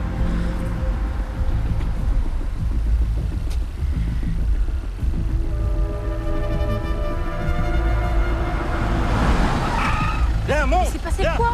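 A car passes near a train station in a film scene, a rumbling engine building to a louder close sweep with a tire-like squeal near the end, over a steady low background.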